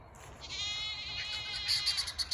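A goat bleats in one long, wavering, high-pitched call, fairly faint against a quiet background.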